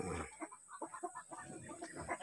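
A rooster on a farm gives a steady series of close, low clucks with no talk.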